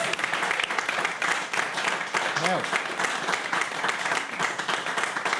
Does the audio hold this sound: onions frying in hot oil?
no